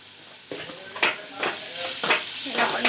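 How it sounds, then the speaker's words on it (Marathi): Cluster bean (gavar) bhaji being stir-fried in a pan, with a steady sizzle under repeated scraping and stirring strokes roughly every half second, close and moderately loud. "याला पण परतून घ्यायचंय।"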